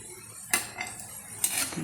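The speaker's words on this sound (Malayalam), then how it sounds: "നമുക്കിത് കോരി പാത്രത്തിലേക്കിടാം" Fried mango pieces scooped from a pan into a vessel, giving two sharp metallic scrapes and clinks of a spoon against cookware close up over a faint background hiss.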